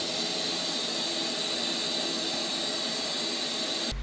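A Lexus IS F engine idles steadily during a transmission service, a constant broad whirring drone with no talk, close and even in level throughout.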